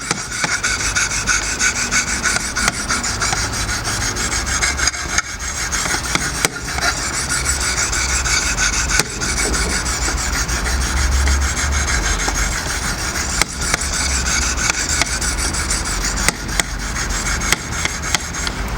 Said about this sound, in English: we do some scrubbing until the burr forms on the right-hand side of the knife